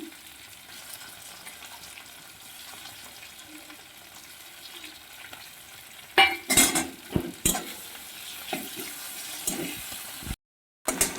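Ginger paste and tomato frying in a pan, a steady low sizzle that turns into louder bursts of spatter and scraping stirring strokes partway through, with a short silent break near the end.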